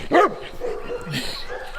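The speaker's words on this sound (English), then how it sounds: "It's nice that she didn't mind being yelled at by big dogs." Big dogs bark at a bouncy young dog out on a driveway, one sharp loud bark up front and then quieter yips and whimpers, with a voice murmuring partway through.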